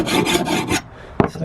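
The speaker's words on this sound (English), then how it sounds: "I get the file and just rub it down to sharpen it" Metal file rasped along the edge of a garden hoe blade to sharpen it, four rhythmic scraping strokes, a pause, then one shorter stroke, close and clear.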